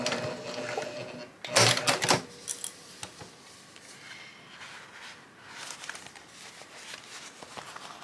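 Sewing machine stitching and back-stitching through cork fabric for a zippered boxy bag: a loud burst of rapid mechanical needle clatter, then shorter stop-start runs and softer intermittent whirring, close and without talk.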